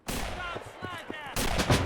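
Gunfire in a World War II video game set in Europe, 1944–45: a sharp shot opens the short stretch, then a brief sound between shots, then a louder burst near the end, close and harsh.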